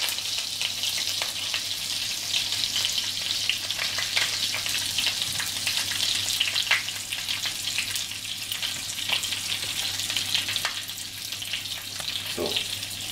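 Fennel braising in a pan, with a steady, close sizzle and soft crackle that continues evenly throughout, with no voices.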